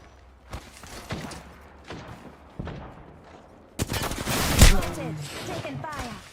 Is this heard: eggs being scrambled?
no